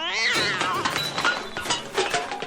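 A cat yowls and clatters among metal garbage cans in a back alley, a loud tumbling crash with overlapping thumps and a shrill caterwaul layered over it.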